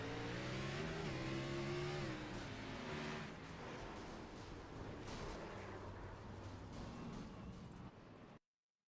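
A stock car at Bristol Motor Speedway revs hard, its engine climbing and dropping through shifts before settling into a sustained roar, loud and close from onboard, then cutting off abruptly.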